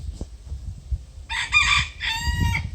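A rooster crows nearby in two loud, strained bursts, heard over a low rumbling background, in a northern Maine garden.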